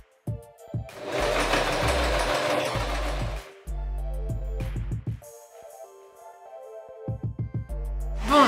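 A domestic sewing machine stitches the seams of cargo pants in several bursts of steady whirring, with short pauses and quick stop-start runs between them.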